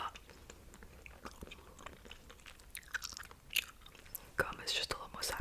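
Gum being chewed close to the mic, with soft wet smacking and clicking mouth sounds at an irregular rhythm, quiet and intimate, a few crisper bursts near the end.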